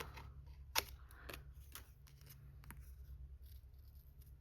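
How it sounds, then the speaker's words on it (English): Quiet, close snips of spring-action scissors cutting paper, a sharp click followed by a few softer cuts over a low electrical hum. "These spring action scissors are nice,"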